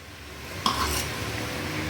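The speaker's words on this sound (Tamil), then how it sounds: "தேங்காய் போட்டு சும்மா கொஞ்ச நேரம் வணங்க போகும்" Coriander leaves and grated coconut are sautéed in a pan, with a soft continuous sizzle and one sharp scrape of a spoon against the pan early on, then quiet stirring.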